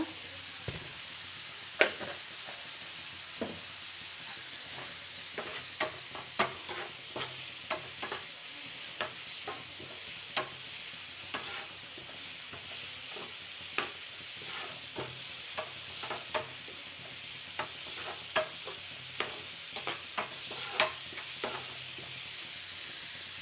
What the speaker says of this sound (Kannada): ನಾವು ಹಾಕಿರೋ ಮಸಾಲೆ ಬಂದು ಹಸಿ ಸ್ಮೆಲ್ ಹೋಗೋ ತನಕ ಚೆನ್ನಾಗಿ ಫ್ರೈ ಮಾಡ್ಕೊಳ್ಳಿ